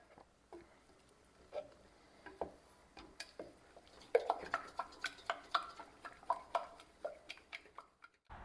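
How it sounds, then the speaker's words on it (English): A utensil stirs an egg mixture in a pan over low heat, giving irregular light scraping and clinking taps that grow busier and closer in the second half, with no talking. "Don't forget to shake the pan while you stir."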